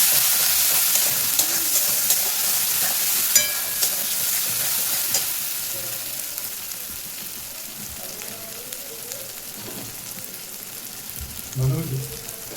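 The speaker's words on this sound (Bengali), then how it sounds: "আমি মশলাটা সব ভালো করে কষিয়ে নেব" Ground cumin, coriander, Kashmiri chilli and turmeric masala for a mutton curry frying steadily in oil, a continuous close hiss with occasional stirring scrapes and a brief clatter near the end.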